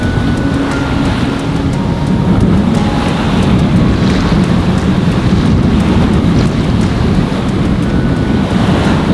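A Sirius 310 DS sailing boat moves under sail, with steady loud wind rushing over the microphone and a constant wash of waves against the hull, continuous and unbroken throughout.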